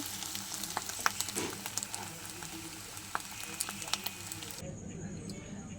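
An egg fries in a pan with a continuous crackling sizzle and scattered pops, fairly quiet and close, with a brief change in the sound near the end.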